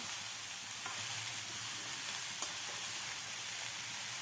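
Dried red chillies are stirred into a masala for dosa potato filling, which sizzles and fries in a steady, loud hiss with a few faint scrapes of stirring.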